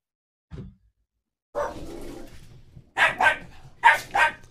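A dog barks several times, a short yip followed by a drawn-out whimpering bark and then two pairs of sharp, loud barks, heard close with quiet gaps between them.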